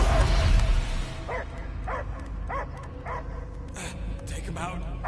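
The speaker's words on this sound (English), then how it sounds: "I hear only barking." A dog barks and yips in the Guardians of the Galaxy video game, a handful of short, evenly spaced barks heard at a distance beneath a dense, rumbling game soundscape.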